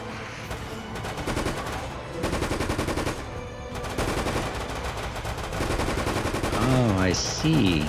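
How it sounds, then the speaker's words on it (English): Sustained automatic gunfire in Resident Evil Operation Raccoon City, rapid bursts rattling on loudly for several seconds, with a voice speaking near the end. "Somebody's shooting."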